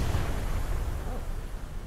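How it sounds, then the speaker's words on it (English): Explosions from the space shooter game Everspace, a loud, dense burst of booming blasts with deep rumbling low end that keeps rolling for about two seconds, with no talking over it. "That was a lot of explosions."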